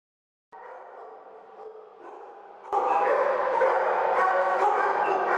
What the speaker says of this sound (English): The sounds of dogs echo through the San Marcos Animal Shelter